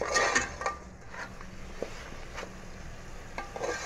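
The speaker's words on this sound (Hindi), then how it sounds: "अब इन सब चीज़ों के साथ मसाले के साथ इसको भुनाई कर लेंगे खूब अच्छे से" Mutton with spices being sautéed in a pot for Delhi-style chana dal gosht until the oil separates: a faint, low sizzle under intermittent scraping and stirring clinks of a spoon against the pot, with no voices.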